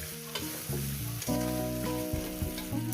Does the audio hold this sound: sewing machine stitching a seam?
no